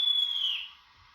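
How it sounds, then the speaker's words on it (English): A single high, steady whistle tone from a model locomotive sounds briefly, then fades out, leaving near silence. "get the old whistle going"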